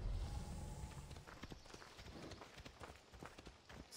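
Horse hooves clip-clopping in the video game Assassin's Creed Odyssey, a quiet, steady run of soft hoof beats over low ambient rumble, no speech.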